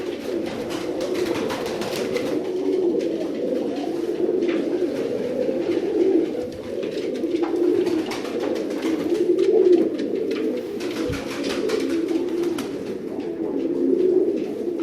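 Czech-breed pigeons cooing steadily at close range, layered soft murmuring coos with a few flutters and clicks, while someone talks intermittently in the background.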